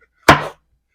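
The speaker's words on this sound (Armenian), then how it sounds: "Կլոր կտրատում եմ" A knife makes a single crisp chop through a vegetable on a cutting board while slicing it into rounds, close and sharp, then silence.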